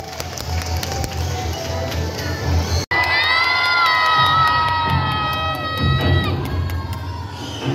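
An audience at the Cebu Safari bird show in Carmen, Cebu, applauds and cheers for a bird named Glider, with children shouting and whooping over steady clapping. Loud and continuous, with a brief dip midway and high excited voices carrying through.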